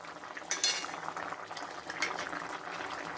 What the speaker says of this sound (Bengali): এই যে শুক্তো রান্না হচ্ছে